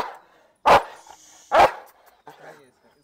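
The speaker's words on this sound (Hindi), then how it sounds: "बिना मतलब का भौंक रहा है भाई" A chained-up dog barks twice in sharp, loud bursts close by, with a faint softer yip afterward and quiet background noise.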